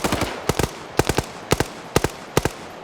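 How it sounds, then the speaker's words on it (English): Short bursts of rifle fire in the military shooter Arma 3, sharp and close, arriving in quick pairs and triplets at a regular rhythm about every half second. "He's going to hear that ladder over the gunfire."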